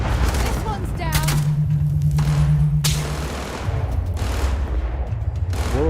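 Sniper gunfire in the Starfield video game, with several loud sharp cracks in quick succession over a steady rumble and a sustained tone, while a voice talks over the action.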